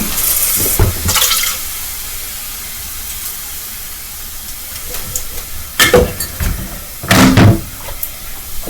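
Water poured into a cooking pot on a stove gives a hissing, sizzling rush with a few louder splashy bursts and clunks near the end, heard alone with no talking.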